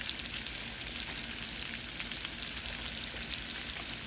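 Chopped cabbage sizzles and crackles steadily in a hot frying pan, a dense, even frying hiss with scattered pops and no talking.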